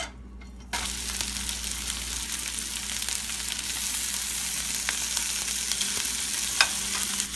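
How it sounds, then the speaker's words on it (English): Paneer tikka pieces and vegetables fry in a hot pan, giving a dense, steady sizzle that runs on close and loud, with a few soft knocks as they are turned. "I'm just turning them around with my veggies and my tikka"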